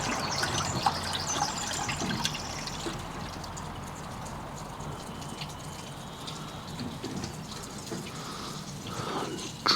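Water trickles and splashes steadily as a skiff is drained out, a continuous liquid gush and patter close by with no talking.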